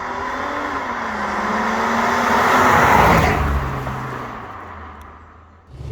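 Supercharged V6 of a Mercedes-Benz C32 AMG pulling hard under kickdown, a rising engine drone that swells loud over several seconds, then eases as the throttle lifts and comes back on near the end.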